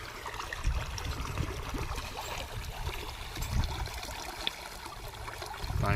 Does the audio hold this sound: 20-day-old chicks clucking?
no